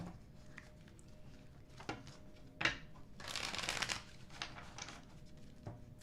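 Tarot cards being shuffled during a live tarot reading, with soft riffling and shuffling bursts, the longest and loudest a rustling stretch near the middle, set against a quiet background.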